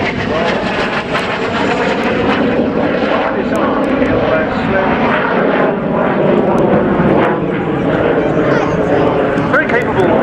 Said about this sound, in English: Very capable aeroplane, the Alpha Jet.